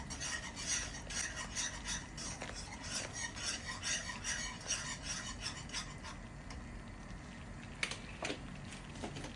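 Quiet, rhythmic scraping and rubbing strokes of a utensil stirring garlic butter parmesan pasta in a pan, close up, with a couple of brief sharper clinks near the end.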